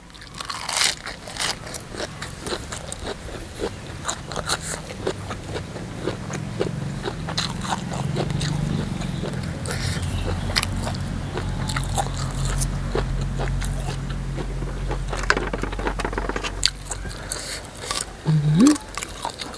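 Crunchy chewing of a giant cockle, loud close bites and repeated crisp crunches with wet squishing throughout, the chewing steady and up close, with a brief squeak near the end.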